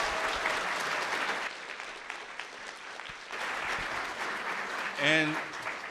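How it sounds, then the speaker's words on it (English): Applause at an elementary school district board meeting honoring students for academic excellence, steady clapping from a modest indoor audience that pauses briefly and resumes, with a short voice heard near the end. "one more round of applause for all of our academic excellence."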